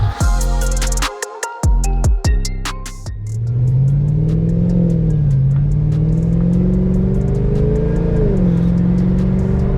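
A supercharged Cadillac CTS-V starts with a burst of sharp clicks and rattles, then settles into a loud engine drone that climbs and wavers as it accelerates, close and dominant with no speech.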